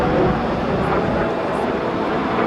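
F-86 Sabre jets fly in formation at a 2005 naval air station airshow, a steady broad roar of jet engines with a faint voice underneath.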